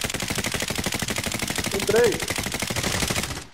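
Rapid automatic gunfire rattles on without a break in a Warzone battle royale match, loud and close, while a player shouts a brief word over it.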